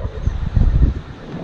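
Wind blowing outdoors, a steady low rumble buffeting the microphone, swelling in the middle and easing off, with no other clear sounds.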